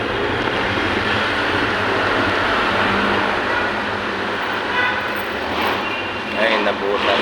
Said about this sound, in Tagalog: Ayan na, traffic na Kalayaan.